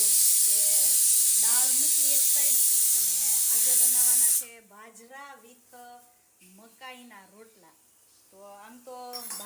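Pressure cooker whistle releasing steam: a loud, steady hiss runs for about four seconds, then cuts off abruptly as someone talks over quieter background.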